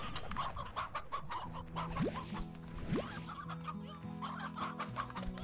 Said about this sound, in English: Come here, little rooster.